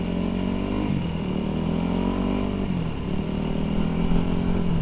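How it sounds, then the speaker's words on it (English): Loud 2005 Yamaha WR450 dirt bike engine on dirt tyres during a ride, a rough, obnoxious steady drone with slight pitch dips and rises as the throttle shifts, close and continuous. "this bike is loud, it's obnoxious, it's rough."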